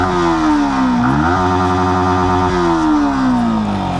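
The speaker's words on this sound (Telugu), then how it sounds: "ఒకసారి ఎగ్జాస్ట్ సౌండ్ వినండి." Yamaha XSR 155 motorcycle exhaust droning steadily while riding, loud and close, its note rising and falling as the throttle shifts, with no talk over it.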